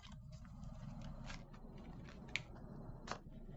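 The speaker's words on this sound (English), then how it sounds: "Don't judge me on my shuffling." Playing cards being shuffled by hand during a Magic: The Gathering deck test, giving soft riffling and snapping with a couple of sharper clicks over a low background hum, close and fairly quiet.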